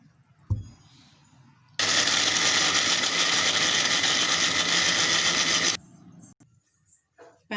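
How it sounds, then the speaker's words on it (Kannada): A kitchen mixer grinder blends coconut masala with a little water, starting abruptly into a loud, steady high whir that runs about four seconds and then cuts off, leaving quiet room sound. "ಸ್ವಲ್ಪ ನೀರು ಹಾಕಿ ನುಣ್ಣು ರುಬ್ಕೊಳ್ಳೋಣ."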